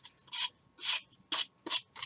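Sandpaper rubbed on a cardboard body tube of an Estes Magician model rocket, five short rasping strokes in a quick uneven rhythm, close and crisp in a quiet room.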